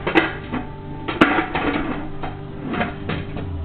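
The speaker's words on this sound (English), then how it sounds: "we're going to stick this lid on" A metal lid is set onto a pressure cooker filled with canned chicken chili, giving close clanks and scrapes of pot metal with a couple of sharper clacks as it seats.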